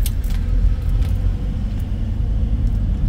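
Cars pass on a busy road outside Grand Mall, a steady loud low rumble of traffic with faint scattered higher hiss, continuous and without talk.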